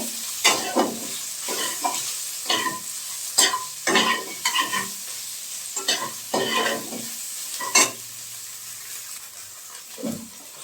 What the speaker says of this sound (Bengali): সয়াবিনগুলো খুব ভালো করে ভেজে নেব